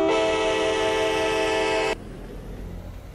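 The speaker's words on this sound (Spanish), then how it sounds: "¿Ya vieron qué genial claxon tiene?" A truck horn in the Farming Simulator 19 video game blares as one loud, steady, multi-tone blast for about two seconds, then cuts off abruptly, leaving only quiet background.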